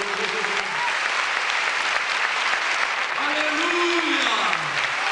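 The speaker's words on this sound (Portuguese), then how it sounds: "Dê uma salva de palmas para o Senhor." A Portuguese-speaking church congregation applauds in praise, a dense, steady wash of clapping that carries on throughout, with voices briefly calling out over it.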